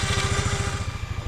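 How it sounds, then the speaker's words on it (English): Tractor engine running during winching, a loud close chugging pulse at an even rapid rhythm, with no talk over it. "the engine has to be running while you're doing the winch"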